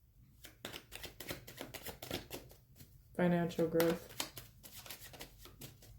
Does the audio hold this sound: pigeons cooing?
no